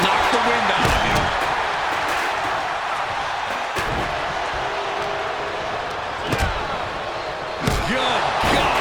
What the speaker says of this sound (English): sledgehammer in the midsection will knock the wind out of you.